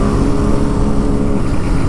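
KTM Duke 200 and Benelli 300 motorcycles race along, their engines producing a loud, continuous close-up roar with a steady droning rumble and no speech.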